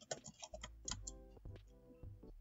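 Quick, fairly close keystrokes tapped on a computer keyboard in short bursts, typing a search into a browser, with a low steady hum beneath and no voices.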